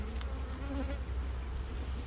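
A honeybee swarm buzzing around freshly drawn comb, a dense, steady close-up hum of many bees with no voices.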